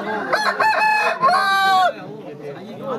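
A rooster crows loudly and close by at a village cockfight held on New Year's Day, one long drawn-out crow with a few short calls before it and a faint murmur of people behind.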